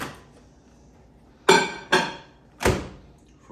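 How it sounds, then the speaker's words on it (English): A microwave door being shut in a home kitchen while a meal is prepared, heard as three sharp clacks close by, the last the loudest, after a quiet room. "And I'll throw it in the microwave"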